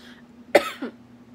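A single sharp cough from a person, close and fairly loud, followed by a softer short throat sound, with quiet room tone and a faint hum before and after.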